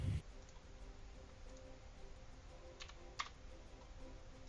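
Steady keyboard typing runs throughout at low level, with a couple of sharper clicks near the end, over a faint constant background hum.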